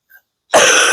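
A single, close, loud throat-clearing cough from a person, short and harsh after a brief moment of near silence.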